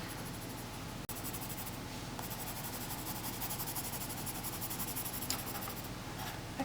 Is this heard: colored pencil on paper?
yes